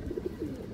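A large khaki male pigeon with a full down shape gives a brief burst of close, low cooing, a few quick throaty pulses in under a second.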